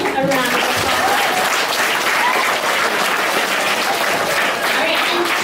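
Loud, sustained applause from a school audience celebrating the top ten student writers, a dense even wash of clapping that fills the whole stretch without pause.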